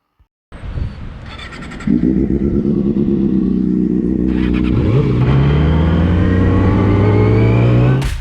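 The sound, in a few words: Yamaha R6 motorcycle engine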